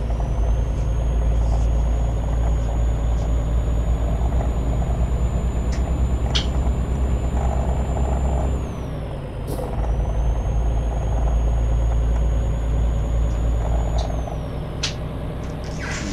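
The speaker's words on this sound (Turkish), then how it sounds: "Motorun sesi de güzel değil mi?" A Volvo F10 truck engine idles with a steady, deep diesel rumble close by, a brief dip partway through, a faint high whine above it and occasional short hisses like air releases.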